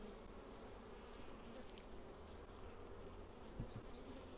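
Honeybees hum softly from an open hive with drone comb during an inspection, a faint continuous buzz with a brief louder pass near the end.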